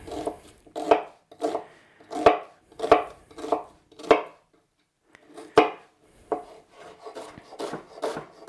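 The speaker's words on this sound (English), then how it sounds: "I also have some red onions that I'm going to cut finer." A knife chops red onions finely on a wooden board in a series of crisp, close thuds, some in quick pairs, pausing briefly midway before the cutting resumes at a steady rhythm.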